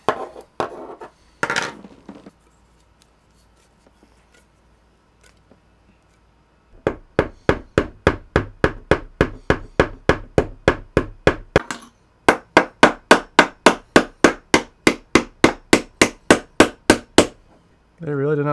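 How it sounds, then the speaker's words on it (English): A hammer pounds on a cheap glued-shut 16TB SSD casing from Wish.com, a few separate blows early, then a long run of rapid, loud, sharp strikes in two bursts, with a brief break between them. "I think we might actually have to get the hammer out."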